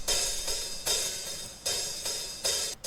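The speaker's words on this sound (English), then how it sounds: "cymbals pan to the left, which sounds something like this without parametric EQ." Cymbals panned left in a mix with no parametric EQ applied, bright washy crashes and hits recurring every half second or so, loud and sizzling, with no voices.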